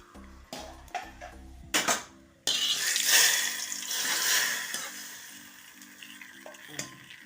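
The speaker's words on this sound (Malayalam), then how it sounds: "പച്ചമുളകല്ല അത് വറ്റൽമുളക് കറിയിലേക്ക് ഒഴിച്ചു കൊടുക്കുക" Tempering of dried red chilies and curry leaves poured into a drumstick leaf and lentil curry bursts into a loud, sustained sizzle after a few quiet clicks and thumps, then slowly fades; no talking.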